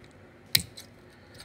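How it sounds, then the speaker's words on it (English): A single sharp snip of scissors cutting through a thin jewelry chain for a necklace, close and crisp, followed by a faint click or two. "the way you cut the chain is you can actually use a pair of scissors"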